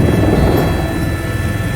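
Helicopter in flight over Niagara Falls, its engine and rotor making a steady, loud broadband rumble and whine heard from inside the cabin throughout, with no talk.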